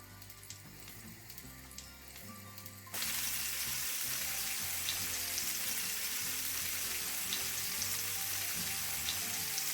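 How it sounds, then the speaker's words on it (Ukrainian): Tench sizzles and crackles in generous hot oil in a pan, quiet at first and then jumping to a loud, steady hiss that continues without talk. "все і смажиться"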